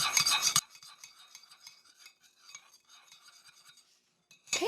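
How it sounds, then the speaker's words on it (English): A spoon stirs vanilla into butter and sweetener in a mug for a keto chocolate chip mug cookie. A loud brief clatter opens, then soft, faint scraping and light clinks of metal against the mug continue steadily. "we want to stir that in well"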